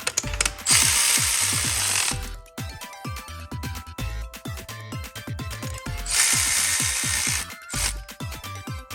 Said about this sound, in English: and then I torque them to specifications